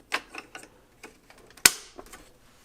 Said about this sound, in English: Slide it back and you'll hear that lock.